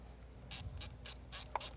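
Several quick ratcheting strokes snug down an 8mm bolt on a coil pack of a P3-chassis Volvo S60, close and crisp clicking bursts in an uneven rhythm with short gaps.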